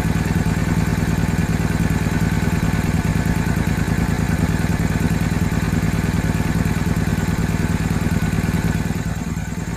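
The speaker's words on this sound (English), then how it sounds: "These guys are trying to move this massive log using just a couple of motorbikes." Two motorbikes labor under the load of a massive tree log, engines droning steadily at close range with a dense mechanical clatter throughout, loud and unbroken.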